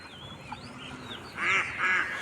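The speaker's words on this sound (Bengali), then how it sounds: "আর এখানে এই যে হাঁস ওই যে আরও পিছনে আরও অনেকগুলো হাঁস আছে" Ducks quack on a duck farm where Chinese ducks are kept. There are a few faint calls at first, then two louder nasal quacking bursts close by in the second half.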